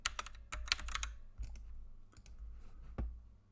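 Computer keyboard typing, with a quick burst of close, crisp key clicks followed by a few slower, scattered keystrokes and a final sharp press, heard alone with no voices.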